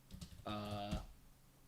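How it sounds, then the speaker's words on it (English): Quick typing on a computer keyboard, a short run of soft clicks, faint and close. A brief hummed voice tone briefly covers part of it. "I'm like typing someone on another browser right quick."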